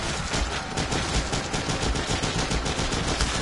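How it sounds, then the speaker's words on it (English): Rapid shotgun fire in the video game Terraria, from a hacked shotgun mod: a fast, steady stream of loud blasts repeating throughout, with no speech. "Guys, I love the shotguns, they're so fast, right?"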